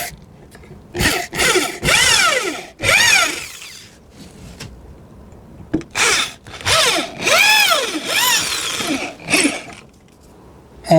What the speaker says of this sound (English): Now we need to use a electric drill, make a hole for the screw.